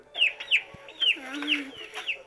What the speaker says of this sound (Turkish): şu elinde civciv olan Enes denen kişinin eline iyice bakın.